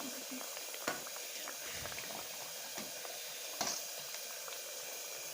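Sesame curry simmers under a lid in a pan, giving a steady low bubbling hiss with a few soft pops and clicks, fairly quiet and close, with no talk over it.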